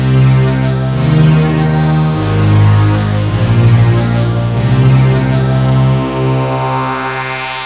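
A loud synthesizer holds rich, buzzing sustained tones that slowly shift and pulse, filling the space with no voices.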